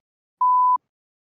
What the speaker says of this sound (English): that was a really strange beep